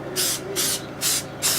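A spray can applies finish to a carved vertical-grain board in four short, evenly spaced bursts, each a close, bright hiss separated by brief pauses.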